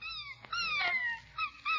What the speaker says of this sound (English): while Leroy plays happily by the fire with his Christmas puppy